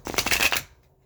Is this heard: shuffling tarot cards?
yes